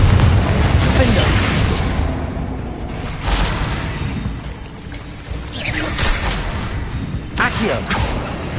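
Rapid-fire spellcasting in Hogwarts Legacy combat, with Incendio, Confringo and Accio blasts landing as repeated booms and mechanical clanks across several seconds, mixed under continuous talking.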